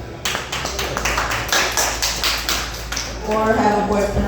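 Scattered claps from a small bar audience, a few distinct hand slaps at an uneven rhythm close by, followed by a speaking voice toward the end.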